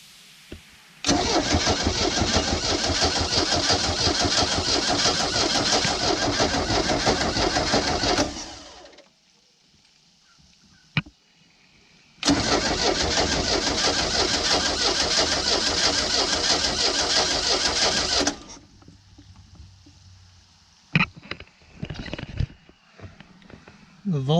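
An old boat motor on a cheap used boat cranks hard, trying to start, in two long loud bursts of several seconds each with a pause between, then quieter clicks and short noises.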